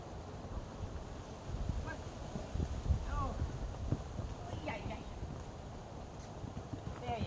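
A horse cantering during a lead and stamina exercise, its steady rhythmic hoofbeats thudding close by in an even loping pattern, with a few faint honks and chirps of birds in the background.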